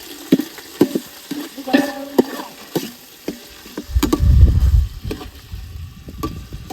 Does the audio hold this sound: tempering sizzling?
yes